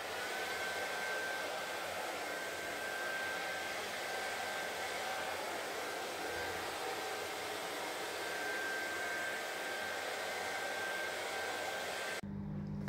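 A blower dries freshly applied plaster on a shower room wall, producing a loud, steady, continuous whooshing airflow that runs unbroken until it cuts off abruptly at the very end.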